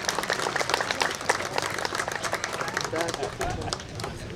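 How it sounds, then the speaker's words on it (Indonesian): Crowd applause for the deputy governor at a 2014 youth service event, sustained clapping throughout with a voice speaking over it. "Tepuk tangan buat Pak Wagub."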